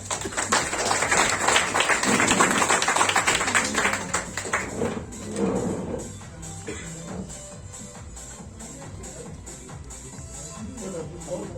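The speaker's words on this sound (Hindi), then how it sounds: "हालत हुसैन के लिए ताली हो जाए।" Scattered clapping rises from the audience at a DXN agent recognition event in Sharjah, loudest early, then thins into shuffling while a speaker talks over a steady background hum.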